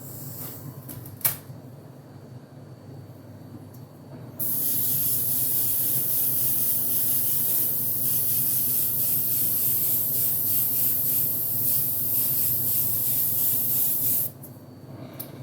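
A spray paint can releases a long, steady hiss of light mist for about ten seconds, close and fairly loud, preceded by a short earlier burst and faint handling noises.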